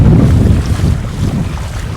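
Strong wind at an Oregon coast beach, a loud, constant buffeting rush battering the microphone with low rumble and faint surf beneath, no voices.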